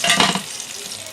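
Kalonji, black pepper, cumin and fenugreek seeds for a fish curry hit hot oil and give a loud, bright crackling sizzle that bursts at first, then settles to a steady hiss.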